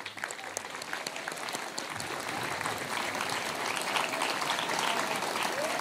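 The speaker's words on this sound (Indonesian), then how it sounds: "Mari kita kasih tepuk tangan untuk kita semuanya." A crowd at an Indonesian Heroes' Day flag ceremony applauds, a thick, sustained burst of clapping from many people that holds steady throughout.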